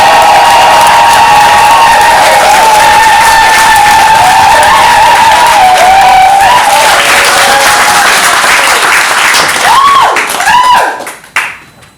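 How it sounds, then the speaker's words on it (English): A comedy course audience claps and cheers loudly for comedian Lalitya, a dense sustained burst of applause with scattered whoops that tapers off abruptly near the end. "I want to hear your biggest applause for Lalitya."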